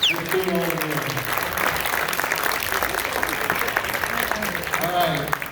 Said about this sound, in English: let's give a big round of applause again to Steve Little, the director